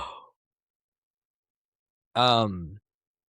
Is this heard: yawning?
yes